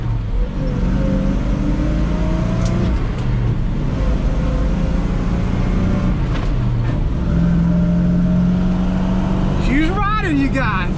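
A vehicle engine on its stock motor without turbos idles and hums steadily during a test run, a loud close drone with a rising whine near the end, while people talk over it.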